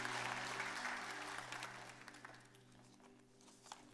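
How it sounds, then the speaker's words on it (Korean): Applause from a church congregation at an ordination service, a dense wash of clapping that is loud at first and slowly thins out over a few seconds, with no talking. "우리 정광렬 장로님 나오셔서 축사해 주실 때 박수로 환영하겠습니다"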